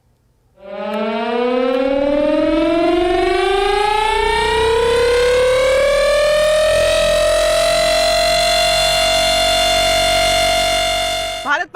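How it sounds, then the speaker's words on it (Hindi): An air raid siren is tested on the roof of the PWD headquarters at ITO in Delhi. Its loud wail climbs steeply, then holds a steady high pitch for about ten seconds before cutting off abruptly. "यहां पर आप देख सकते हैं एयर सायरन की टेस्टिंग की जा रही है"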